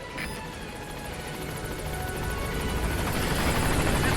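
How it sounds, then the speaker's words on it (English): A helicopter arrives in the video game Metal Gear Solid V: The Phantom Pain, its rotor chop and engine whine swelling steadily louder as it approaches. "Let's just call in our helicopter and get out of here."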